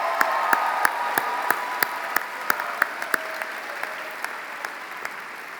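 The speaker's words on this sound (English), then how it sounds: "Can we give them a round of applause, please?" A graduation ceremony crowd at a high school commencement claps in a steady, dense wash of applause, with sharp individual claps and cheers standing out above it, sustained throughout.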